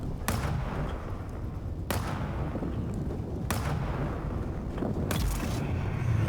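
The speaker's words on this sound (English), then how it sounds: "somebody is shooting at me." Gunfire in Dune: Awakening, sounding as a few separate loud shots or blasts spaced a second or more apart over a dense, rumbling battle backdrop, with no talk.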